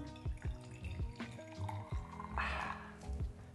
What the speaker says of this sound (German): wenig Kaffee in unsere Tasse gießen